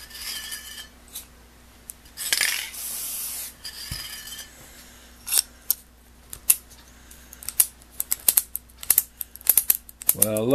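A Weltrecord ratcheting screwdriver clicks in quick irregular runs of sharp metallic ratchet ticks that grow denser toward the end, following a brief aerosol spray hiss near the start, close up with no talk.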